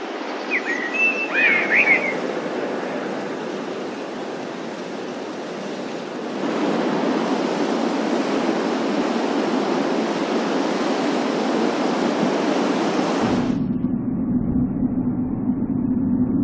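Ocean waves break on a shore in a continuous, surging roar that swells partway through, with wind and a brief bird chirp near the start.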